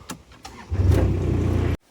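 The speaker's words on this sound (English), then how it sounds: "Well, I ended up having to use chainsaw." A chainsaw engine takes a couple of quick pull-cord tugs, then catches and runs with a loud, steady, buzzy idle for about a second before cutting off abruptly.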